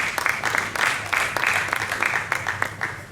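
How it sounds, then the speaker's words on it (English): Audience applause at a public talk on ongoing development projects in the South East, a steady wash of many hands clapping at moderate distance, with a faint voice underneath. "Can we give him another round of applause?"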